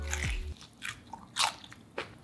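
Crunchy homemade barbecue chicken wings get bitten into, giving several sharp, close crunches and chewing sounds with short pauses between them.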